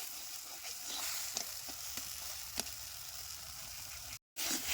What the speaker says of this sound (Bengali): এবার একটু ভালো মতো আবারও কষায় নেবো